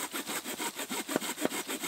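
A hand saw cuts through wood at a campsite in steady back-and-forth strokes, about eight rhythmic rasping passes with a couple of sharper scrapes, close and alone.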